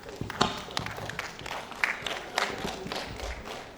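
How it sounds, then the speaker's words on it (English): An audience at an annual lecture claps after the speakers, with scattered bursts of applause that are fairly faint and uneven. "A better round of applause for our speakers."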